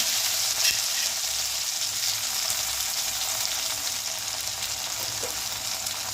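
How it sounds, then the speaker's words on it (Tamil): Curry leaves and cumin seeds crackle in hot oil for a kolllu (horse gram) kuzhambu, a steady close hiss of frying running throughout without pause. "ஜீரகம் சேர்த்துட்டு இது ஒரு கிண்டி கிண்டி விட்ட உடனே கருவேப்பிலை வந்து ஒரு இருபது கருவேப்பிலை வச்சுருக்கேன் அதை வந்து ஆட் பண்ணிக்கலாம்"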